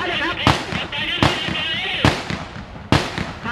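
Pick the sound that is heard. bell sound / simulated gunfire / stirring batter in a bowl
simulated gunfire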